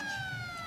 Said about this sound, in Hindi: देखिए यहाँ पर सायरन बज चुका है